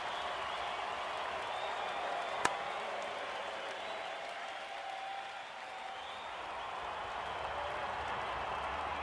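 Crowd applause at an IPL cricket match between Delhi Capitals and Punjab Kings after a dot ball, a sustained distant wash of clapping from a large stadium audience with one sharp click, steady throughout.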